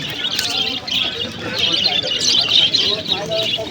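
Pigeons at the Birnagar pigeon market, a bustling bird sale, chirp and coo steadily close by while people talk among the birds.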